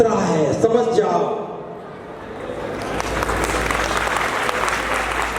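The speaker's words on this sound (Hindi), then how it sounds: "मेरी बात पे ताली मत बजाओ" An audience claps at a talk by a Buddhist monk: a broad, dense wash of applause swells in and holds steady under a voice that fades out at the start.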